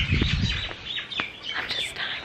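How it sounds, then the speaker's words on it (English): Birds chirp near a beach in Hawaii, quick bright tweets repeating over a soft steady background hiss, fairly close and with no talking. "Just like listening to the birds."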